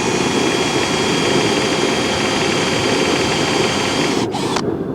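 A drill bores through an aluminum horse trailer hinge into a stainless steel pin, a loud, steady, close whirring grind that holds constant before cutting off briefly near the end.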